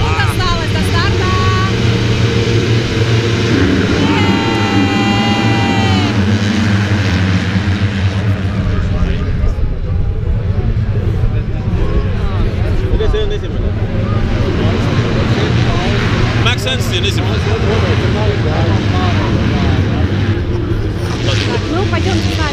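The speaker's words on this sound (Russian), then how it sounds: "И это слышно по звукам мотора." Several motocross motorcycle engines idle and rev loudly up close before a race start at the MXGP of Latvia in Ķegums, a dense buzzing drone with sharp throttle blips, while a voice talks over them.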